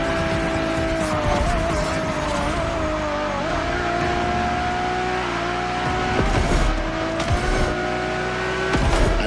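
Ferrari Enzo supercar racing in The Crew Motorfest, its engine droning steadily at high revs with pitch shifts through gear changes, some tire squeal, loud and continuous with no talk.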